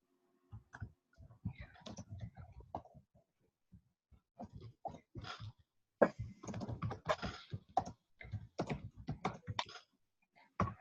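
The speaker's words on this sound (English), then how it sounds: "My usual awesome typing." Computer keyboard typing in bursts of quick, irregular key clicks, close and fairly clear, with pauses between runs and heavier clusters in the second half.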